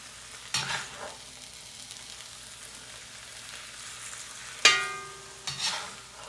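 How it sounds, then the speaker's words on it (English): Corned beef hash being scooped from a cast iron pan into a bowl: a few sharp metallic scrapes and clanks of the utensil against the pan, separated by quieter gaps with a soft sizzle. "And now it's time to scoop this hash out into a bowl."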